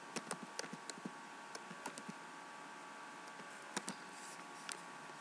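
Someone types on a computer keyboard in short bursts of light, quiet clicks, with several keystrokes spaced irregularly over a few seconds against a faint background hiss.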